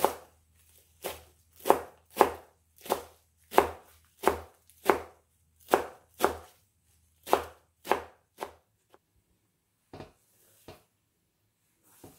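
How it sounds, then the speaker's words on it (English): A knife chops through apples on a board in a steady series of crisp, close knocks, then a few slower, scattered cuts at the end. "I'm gonna keep chopping"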